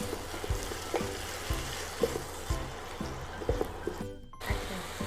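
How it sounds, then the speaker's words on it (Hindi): Onion and sugar fry together in oil for a mutton nalli nihari gravy, giving a steady sizzle with regular spoon scrapes and thumps against the pot throughout, and the sizzle drops out briefly near the end. "प्याज और चीनी एक साथ तलने से ग्रेवी का कलर बहुत अच्छा होता है।"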